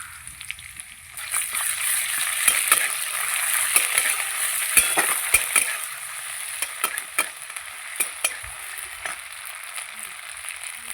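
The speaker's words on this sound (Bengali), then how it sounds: "পেঁয়াজটা একটুখানি ভাজবো পেঁয়াজ আমি ভেজে নিয়েছি দিয়ে দেবো কাঁচা লঙ্কা কুচি দেব রসুন বাটা" Onion frying in hot oil with chopped green chilies and garlic paste, a steady loud sizzle broken by scraping stirs and clinks of a spatula in the pan, no talk.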